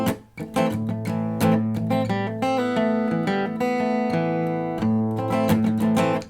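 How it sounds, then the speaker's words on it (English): Cort Gold A6 acoustic guitar playing a quick run of single-note hammer-ons and pull-offs, with clear plucked notes flowing in rapid succession, close and moderately loud, and no talking. "little single note hammer-ons and pull-offs in quick succession"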